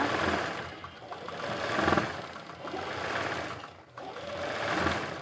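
A sewing machine stitches a straight embroidery fill line, its steady mechanical whirr running continuously in close, moderately loud bursts with brief dips between passes.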